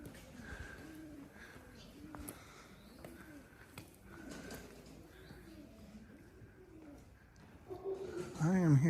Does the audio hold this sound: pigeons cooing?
yes